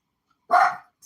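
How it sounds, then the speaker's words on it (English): A dog looking out a window gives one loud, close bark, then a second softer, shorter one follows after a brief silence. "you guys are going to hear her bark"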